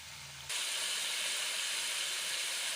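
Chicken drops into hot oil and a loud, steady frying hiss starts suddenly and keeps going at full strength.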